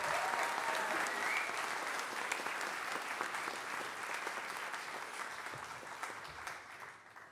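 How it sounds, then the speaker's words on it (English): Applause from an audience after a piece by the National Youth Brass Band of Scotland, a broad, full clapping sound from many people that holds steady and then slowly fades toward the end. "And again, big round of applause for Alan."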